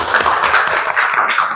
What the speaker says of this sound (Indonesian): Terima kasih untuk Teh Kirana, tepuk tangan.